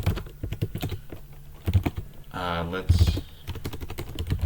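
A computer keyboard clacks in quick, uneven bursts while someone types out a systemd service example, with a voice talking briefly between the keystrokes.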